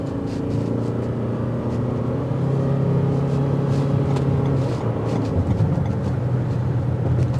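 A Toyota Venza XLE in sport mode gives a low, steady engine and road hum from inside the cabin, rising slightly in the middle as the car accelerates, with no one talking.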